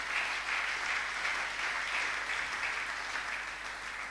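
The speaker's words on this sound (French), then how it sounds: "Est-ce qu'on peut l'acclamer très fort?" A church congregation claps and cheers loudly at a preacher's call during a sermon, a steady dense wash of applause holding for several seconds with no gaps.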